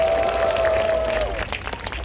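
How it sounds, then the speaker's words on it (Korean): A crowd at an outdoor Korean political rally starts clapping after a sustained tone dies away, the claps building into scattered, mid-loud applause in the second half. "큰 박수 부탁드립니다"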